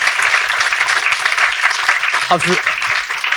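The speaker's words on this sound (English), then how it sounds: "Can I just get a wee round of applause for the guests?" An audience at a talk event claps for the guests, steady applause with a voice briefly cutting through near the end.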